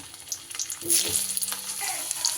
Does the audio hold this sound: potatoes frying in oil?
yes